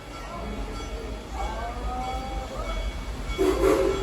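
Steam-style whistle toot from the Serengeti Express ride train at Busch Gardens Tampa, a short toot rising near the end over idling engine hiss and general rumble.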